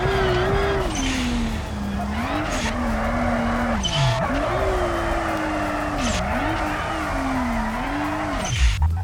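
A car drifting in the BeamNG driving game, its engine note rising and falling while tires squeal in repeated skids, steady and close throughout.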